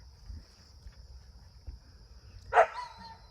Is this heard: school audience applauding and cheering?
no